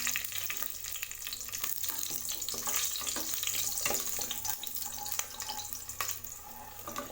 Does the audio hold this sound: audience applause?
no